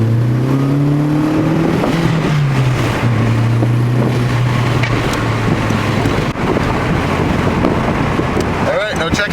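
An MK4 Jetta driving, its engine droning and rising through the gears over steady road and wind noise, recorded from inside the car, with someone talking over it.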